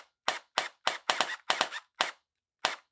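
Cyberpunk 2077 Quasar DR-12 gel blaster shooting in single fire mode: a string of sharp, close, loud pops, roughly seven separate shots spaced unevenly, some landing in quick pairs, with no talking.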